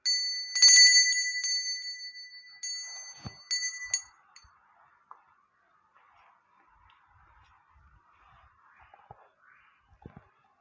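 A small bell rings brightly at the start with a few quick repeated strikes, then fades into near silence broken by faint light taps.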